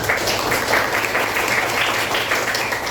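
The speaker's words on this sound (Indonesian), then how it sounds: "Tepuk tangan untuk kalian semua." A classroom of students applauds during a lesson on zakat fitrah, brisk continuous hand clapping that stays fairly loud and even throughout, without voices over it.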